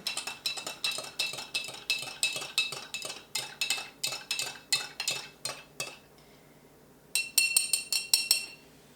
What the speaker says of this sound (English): And I'm just gonna stir it up real good.